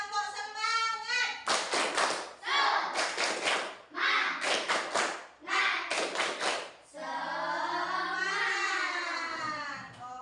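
Elementary schoolchildren in a third-grade class perform the rhythmic 'tepuk semangat' clapping chant, with crisp clap bursts in patterned groups and voices chanting along, ending in a long, drawn-out group shout.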